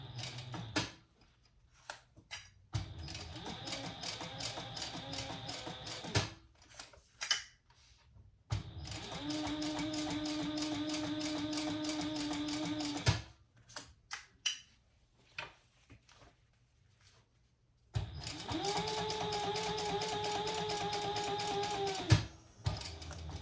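Sewing machine stitching through a taped handbag strap and handle on an Up and Away handbag, running in three sustained bursts with short pauses and small mechanical clicks between them.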